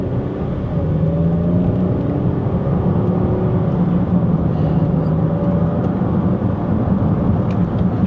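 Used car being driven on an auction test track, a steady engine whir and road drone inside the cabin with faint changes in pitch as it runs through gears, no voices.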